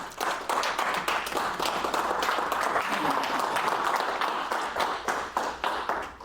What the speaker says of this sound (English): So would you please give a round of applause to Donnie Martinez.